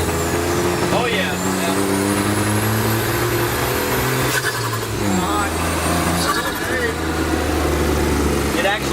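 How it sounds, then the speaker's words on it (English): A straight-piped turbo BMW E36 with a stuck wastegate idles roughly, its engine stumbling and misfiring in an uneven, loud, low drone that never settles. "It just sounds like a fucking misfire."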